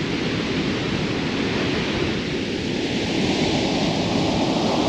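Powerful water rushing through rock potholes along the Icefields Parkway, a loud, unbroken roar of broadband noise that stays steady and close for the whole stretch.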